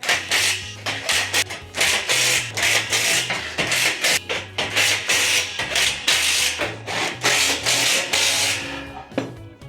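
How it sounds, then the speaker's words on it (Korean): Repeated ratcheting and scraping as bolts are tightened on a metal shelf rack, steady rhythmic rasping strokes close by with dull knocks underneath, no talking. "자, 그럼 한번 조일게요"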